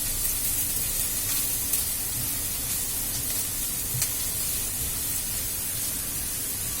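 Ginger and chilies fry in a pan with a steady, close, broadband sizzle that holds evenly throughout, with a few faint crackles and pops and no talking.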